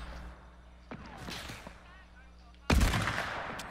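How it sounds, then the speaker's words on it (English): Enemy gunfire in a shooter video game: scattered sharp shots with one loud burst near the end, while people talk over it. "They're shooting you from behind"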